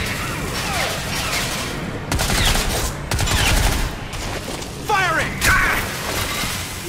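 Gunfire from the first-person shooter Crysis 3, loud bursts of rapid shots in several clusters over a steady game-sound bed, close and dense, with brief pauses between volleys.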